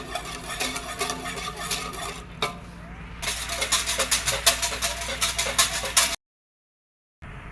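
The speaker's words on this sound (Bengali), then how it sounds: "ভালো করে নাড়তেছি।" Milk is stirred in a pot for homemade yogurt, a spoon scraping and clinking against the metal in a quick repeated rhythm, close and fairly loud, pausing briefly near the end.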